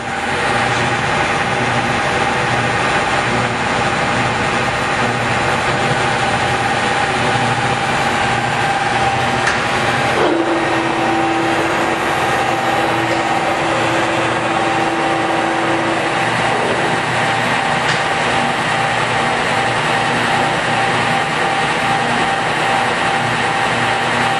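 A Cincinnati #3HD horizontal milling machine (11,000 lb, 15 hp, wired for 480 V) runs at 489 RPM. Its loud, steady mechanical drone carries tonal humming and shifts briefly partway through.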